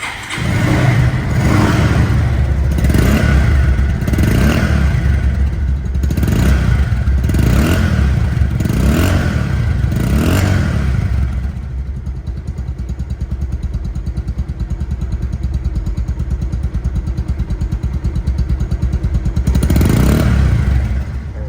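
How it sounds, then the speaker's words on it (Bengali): A 2021 motorcycle in showroom condition runs close by, its engine revved in a series of rhythmic bursts for about ten seconds, then settling into a smooth, steady idle, with one more short rev near the end. "সাউন্ড কোয়ালিটি শুনলে আরও অবাক হয়ে যাবেন বাইকটি"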